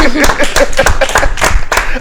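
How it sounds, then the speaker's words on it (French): A TV studio audience claps in brisk, distinct bursts, close and loud, with voices talking over the clapping. "On l'applaudit."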